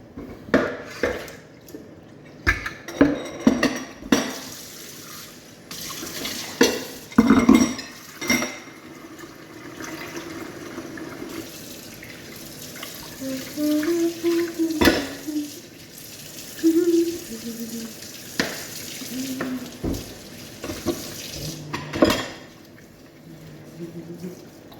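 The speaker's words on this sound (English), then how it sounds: "Let's do the dishes." Dishes being washed in a home kitchen sink after a meal, with irregular clinks and knocks of plates, pots and cutlery against running tap water, close and moderately loud, while people talk now and then.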